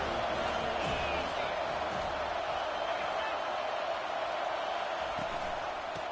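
Steady stadium crowd roar in a football video game, a dense continuous wash of cheering that holds loud and even throughout, with commentary voices talking over it.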